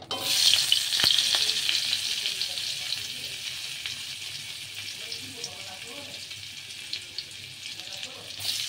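Butter melts into hot white cooking oil in a pan, giving a loud, bright, steady sizzle close up that slowly settles, with small crackles and pops running through it.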